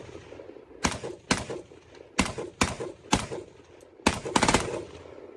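Rapid gunfire from a played video comes in short sharp bursts, about seven loud cracks spaced irregularly with quieter gaps between them, heard alone without talk.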